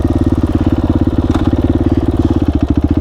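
A Suzuki LTZ 400 ATV with new shocks, its single-cylinder engine thumping loud and close in a fast, even pulse that quickens slightly as the rider prepares for a second-gear launch.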